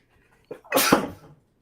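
A single sharp sneeze, a short breathy intake followed by a loud explosive burst, close to the listener in a quiet room.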